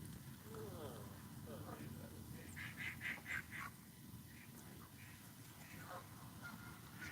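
Ducks quacking near a lake at night during a carp fishing session: a short run of nasal quacks in the middle, moderately distant, over steady outdoor background noise, with people talking around them.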